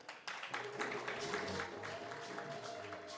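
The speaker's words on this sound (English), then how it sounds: "A round of applause, ladies and gentlemen." Applause from an audience at a public event marking international zero tolerance for FGM, a steady dense clapping that starts abruptly and holds at an even, moderate level throughout.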